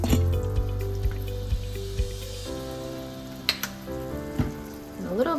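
Ground beef for a burger salad sizzles loudly in a pan, a dense steady frying hiss with spattering pops and a few scraping knocks of a utensil, close up and with no voices.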